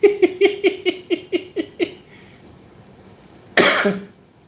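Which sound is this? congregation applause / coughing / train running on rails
coughing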